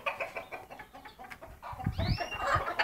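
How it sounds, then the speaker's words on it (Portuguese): Young canary chicks chirping in their cage at home, with busy overlapping high chirps and clucking calls that grow denser and louder toward the end. "Fazer uma atualização dos filhotes de canário."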